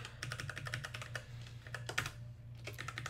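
Rapid, irregular clatter of keys as a query is typed on a computer keyboard, close and fairly quiet, with steady low hum underneath and no talk.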